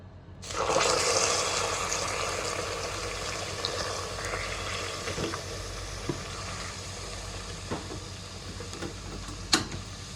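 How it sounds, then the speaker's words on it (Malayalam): Water is poured into a hot pot of vermicelli payasam, setting off a sudden hissing sizzle that holds steady for several seconds, with a few sharp clinks of a utensil and no speech. "കുറച്ച് വെള്ളം ഒഴിക്കട്ടെ നമുക്ക് ഇതിലേക്ക്"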